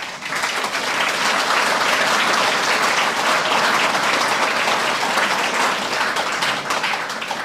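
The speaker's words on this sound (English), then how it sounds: "So please join me in giving a hearty round of applause to Uncle Fuad." A hearty round of applause fills a mosque hall in Cape Town, a dense and even wash of many hands clapping that stays loud and steady throughout.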